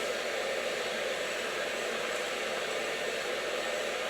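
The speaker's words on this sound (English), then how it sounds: "Having my blow dryer on low, but with the maximum heat." A hair dryer set on low speed with maximum heat blows with a steady, even hiss of rushing air, close and constant throughout with no talking.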